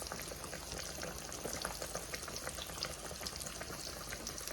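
Catfish pan frying in hot grease, giving a dense, steady sizzle and crackle that stays loud and close throughout with no voices.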